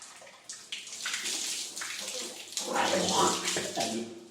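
Tap water runs and splashes over hands during wudu ablution rinsing, a close, steady gush that swells louder toward the end, with no talking.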